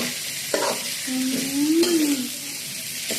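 Fish stir-fried with holy basil in an old wok gives a continuous close sizzle, with a spatula scraping and stirring and a brief squeaky tone in the middle.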